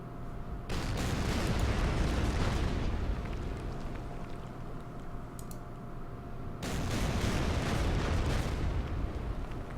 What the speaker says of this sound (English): let's start by bombing that fortress, shall we? And we start with the battleship.